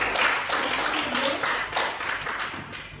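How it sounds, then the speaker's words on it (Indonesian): Children in a classroom clap their hands together in a dense, steady round of applause lasting a few seconds, close and fairly loud. "Tepuk tangan anak-anak pada Zahwa"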